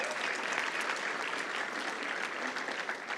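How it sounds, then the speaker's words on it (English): A graduation audience claps steadily for BA Honours Community Development graduates at a Cornerstone Institute autumn ceremony, dense sustained applause with no pauses across the whole stretch. "Let's applaud our BA Honours Community Development graduates"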